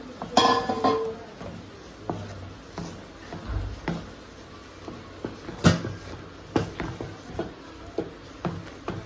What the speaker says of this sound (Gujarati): લોટ નાખીને એને બરાબર હલાવી દઈશું